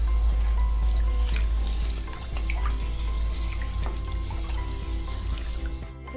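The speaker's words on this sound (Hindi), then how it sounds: "देखंतु पानी फुटी आसिलानी।" A pot of water is heating toward a boil for making chaula kakara pitha, a rice-flour sweet. Steady low bubbling and a faint simmering hiss continue throughout, fairly quiet, with small scattered pops and no speech.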